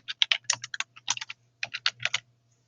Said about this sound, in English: I'm just going to type in Fairfield.